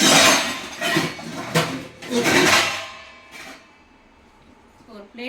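A plate is picked up and set down in a kitchen after the gas is turned off, giving a few clattering ceramic knocks and clinks up close, followed by quieter handling as someone speaks.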